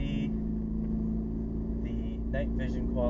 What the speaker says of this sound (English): Going on a night drive.